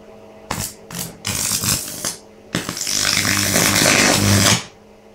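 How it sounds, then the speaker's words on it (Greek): An arc welding machine is switched on and runs with bursts of harsh, broadband buzzing and crackling, first in short separate spurts, then in one long loud stretch before cutting off. "Και ανοίγουμε την ηλεκτροκόλληση."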